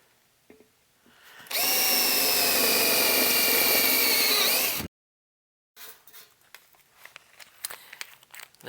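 Power drill boring a hole through a piece of wood for a tube audio amplifier build, a loud steady whine lasting about three seconds that stops abruptly, followed by softer handling clatter and small knocks.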